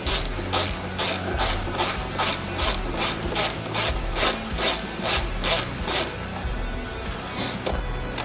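Ratchet wrench clicking steadily in repeated bursts while backing out the rear turn signal bolt on a 2022 Harley-Davidson Road Glide ST, close and fairly loud with no talk.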